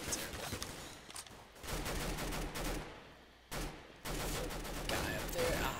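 Bursts of gunfire in Counter-Strike: Global Offensive on the Italy map, with loud rapid automatic fire in several clusters separated by short quieter gaps.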